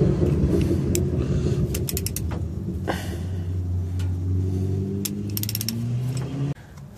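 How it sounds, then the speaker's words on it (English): A ratchet fitted with a 12-point socket turns out drive shaft bolts under a vehicle during rear differential pinion seal work, giving rapid clicking bursts over steady mechanical creaking and low rumble, close and continuous until an abrupt stop. "I have a size 12, 12 point socket on this, and that should be all I need to remove this."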